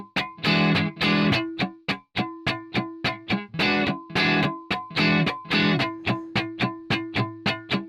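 Funk electric guitar strumming exercise with constant rhythmic hand motion, alternating ringing chord stabs with sharp, percussive muted dead-note scratches in a steady, tight groove, close and clear.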